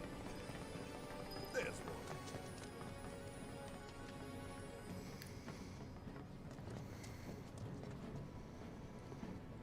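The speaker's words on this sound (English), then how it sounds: "they kept his stupid horse laugh from the" A character in Final Fantasy VII Remake gives a braying, horse-like laugh over game music and ambience, with a few sharp accents early on.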